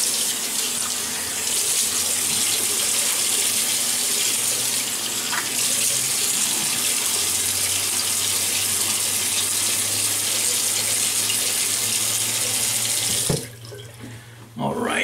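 Tap water gushing into a sink to wet the face before a shave, a steady loud rush of water running close for most of the time, then shut off abruptly near the end.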